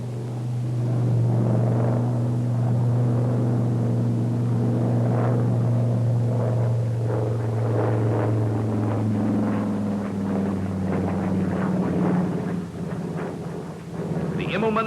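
A Brewster SB2A Buccaneer flies a slow roll, its piston engine a loud, sustained droning rumble with a shifting tone that holds steady throughout.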